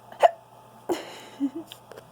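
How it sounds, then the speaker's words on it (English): A person hiccups several times, sharp short gulps spaced irregularly and heard up close in a quiet room. "Now I have the hiccups."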